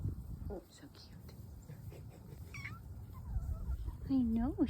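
A cat meows several times, rising and falling, the last call louder and nearer, outdoors in a yard with free-range hens, while someone talks softly throughout.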